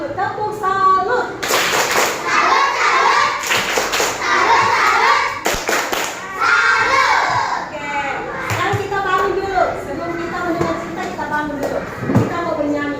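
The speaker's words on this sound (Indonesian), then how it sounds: "Oke, tepuk salut untuk Isa dulu." A group of children in a classroom claps out a rhythmic salute clap, bursts of hand claps with thumps mixed among children's voices and a teacher talking.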